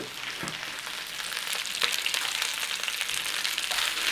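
Cabbage with chicken stir-frying in a hot pan, a steady close sizzle with occasional crackles and light stirring scrapes, growing slightly louder, no talking.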